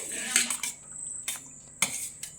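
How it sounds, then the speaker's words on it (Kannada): Puffed rice (charmuri) being mixed with rock salt in a bowl, heard as soft rustling with several sharp clinks and scrapes against the bowl, close and fairly quiet. "ಚೆನ್ನಾಗಿ ಮಿಕ್ಸ್ ಮಾಡ್ತಾ ಇದ್ದೇನೆ"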